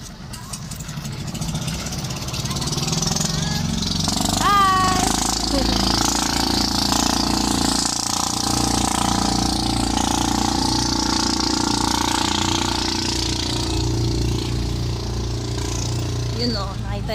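At a pier, a motorcycle engine idles and revs with a steady mid-pitched drone amid ambient harbor noise, while people talk over it throughout.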